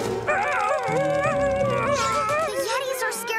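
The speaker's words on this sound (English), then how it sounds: "We heard howls. Unhappy howls?" Cartoon Yetis let out unhappy, wavering howls and yelping cries that swell and overlap in a continuous, loud chorus for several seconds over background music.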